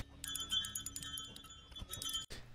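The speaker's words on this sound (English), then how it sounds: "kind of sounds like keys jingling or something" A metallic keys-jingling texture sample from a one-shot pack, made for a dark ambient drill beat: a dense shimmer of small bright clinks and chimes that runs steadily, then cuts out briefly near the end before resuming.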